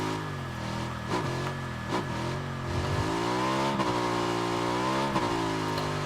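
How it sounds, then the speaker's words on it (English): A motorbike in the video game PUBG on Xbox One drives and revs steadily, its engine pitch rising and falling through gear changes, loud and continuous with no talk. "Love the bike."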